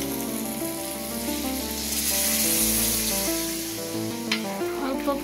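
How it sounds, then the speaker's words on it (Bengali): Beef tripe frying with potatoes in a pan, loud continuous sizzling as a little water hits the hot oil, with stirring clatter and a steady tonal hum underneath; no speech. "অল্প পানি দিলাম, যেহেতু এটা পানি রাখবো না, ভাজা ভাজা করবো, অল্প পানি দিচ্ছি"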